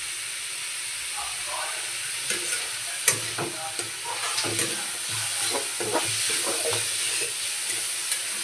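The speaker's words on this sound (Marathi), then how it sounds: "थोडंसं याला फ्राय व्यवस्थित करून घ्यायचं" Onions frying with a pinch of salt for Mumbai-style pav bhaji, giving a steady soft sizzle with intermittent scraping clicks of a spatula stirring the pan, close and moderately loud, no talk.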